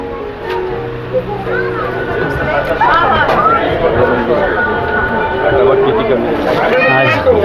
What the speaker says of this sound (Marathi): दुकानामध्ये गर्दी पण एवढी आहे